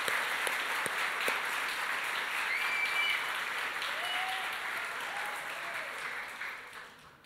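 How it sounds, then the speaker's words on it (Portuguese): A church congregation applauds its volunteers in a long, even wash of clapping that holds steady, then thins and fades toward the end. "você poderia aplaudir a vida de todas essas pessoas bem forte"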